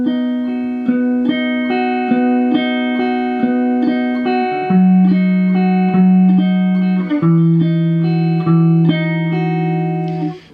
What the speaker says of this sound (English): the song starts with this little 3-note guitar line that sounds like this